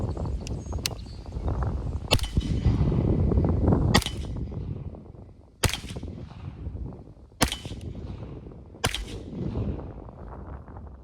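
Smith & Wesson FPC folding pistol carbine in 9mm fired at a target outdoors, about seven sharp, loud shots at uneven intervals, each with a short echoing tail.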